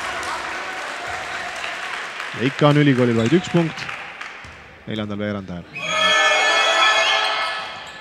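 Crowd in a basketball arena at a 2012 final cheering and applauding for the university team, a roar that swells loudly over the last couple of seconds after a commentator speaks over quieter crowd noise.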